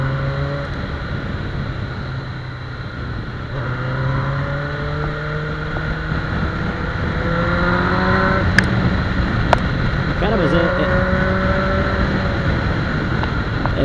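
A Suzuki GSX 750 F motorcycle with its choke on and engine out of tune revs up repeatedly, rising and falling engine tones running steadily against heavy wind noise.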